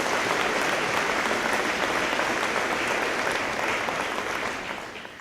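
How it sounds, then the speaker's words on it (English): Graduates at the Becker College 2017 convocation burst into a loud, sustained round of applause, a dense wash of clapping that fades slightly at the end. "Give yourselves a round of applause."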